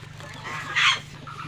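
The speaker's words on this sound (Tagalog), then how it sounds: "may gansa po tayo" Geese honk in a brief, bright burst near the middle, loud and close against a steady low farmyard hum, with no talking.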